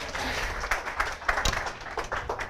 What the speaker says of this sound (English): A round of applause for my